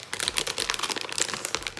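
Crinkling plastic wrapper of a giant Metazoo Trick No Treat 2022 booster bag being worked open by hand, a close run of irregular crackles and rustles with no talk.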